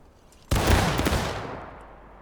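A volley of musket fire in the Civil War game War of Rights, a drilled line of infantry discharging together: one sharp, loud crack that swells into a rolling, crackling roar of scattered shots and then fades over about a second and a half.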